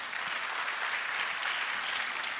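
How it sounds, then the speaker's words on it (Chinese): Audience applause fills the room at a sales seminar, steady dense clapping at even loudness from start to finish with no voices over it. "给老板一个掌声好不好？"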